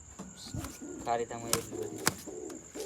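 Pigeons coo softly on a rooftop or ledge after a windstorm knocked some down, a few low throaty calls with rustling and other faint background sounds around them.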